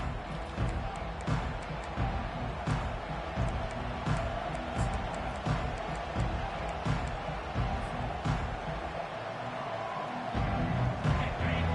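Steady roar of a large college football stadium crowd at an NCAA game, cheering swelling and dipping throughout with sharp shouts and bangs poking through the dense wall of noise.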